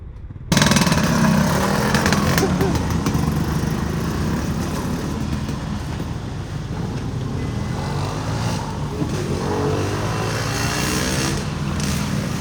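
A small motorcycle's engine runs steadily and close by for the whole stretch after a brief quiet start, a continuous buzzing drone with no clear break for a gear change while it pulls away, no talk over it.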